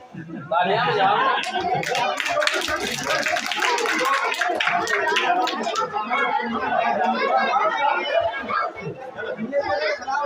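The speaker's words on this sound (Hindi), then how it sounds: "तालियां बजाओ" Children applauding at a Teachers' Day school gathering, sustained dense clapping with lively crowd chatter and some laughter throughout, close and loud.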